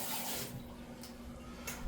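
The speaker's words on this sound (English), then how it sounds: "I'm going to add a little bit of water to this, about 1/3 of a can of water." About a third of a can of water pours into a pot of black beans, a steady close splashing rush that tapers slightly, with no talking.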